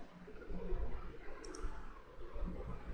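A quick double click near the middle, light and sharp, over a steady low background hum.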